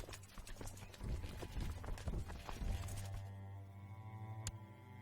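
Horse hooves clip-clop in Crusader Kings 2 as riders set out on a hunt, a steady close trotting rhythm of hoofbeats with faint whinnying and no talk.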